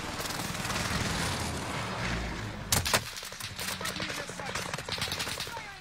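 Rapid bursts of gunfire in a shooter video game, a loud cluster of shots followed by a steady rattling volley, over busy game ambience with talk in the background.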